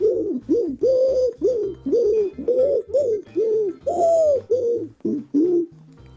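Pigeons in Paris coo close by in a steady series of rolling calls, with soft chirps and twitters between them.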